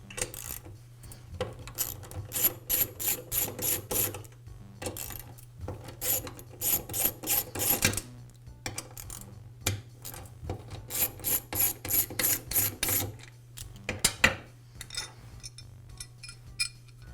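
Ratchet wrench loosening the three bolts securing a Jet band saw trunnion to the underside of the table, with repeated bursts of close metallic ratcheting clicks separated by pauses, and occasional clinks of metal parts.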